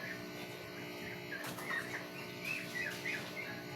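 Pet fowl squabbling out back of a house, with chirps, squawks and a flurry of wing flaps over a steady background hum, moderately distant.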